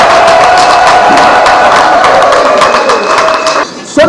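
A large crowd at an open-air political rally of party supporters in Tshiangu roars and cheers loudly and continuously, sustained until a brief drop near the end, with no clear talk over it.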